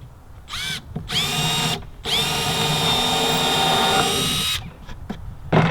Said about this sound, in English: this is some scrap fir, fine grain fir, and it tends to split, so I'm going to pre-drill it